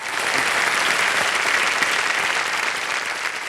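Studio audience at a televised quiz show applauding, a dense sustained wash of clapping from many hands, loud and even from start to finish with no voices over it.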